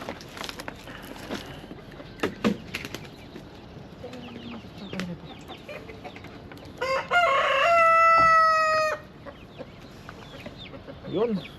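Backyard chickens cluck and scratch about, then a rooster lets out one loud, close crow lasting a few seconds, with scattered clucks before and after.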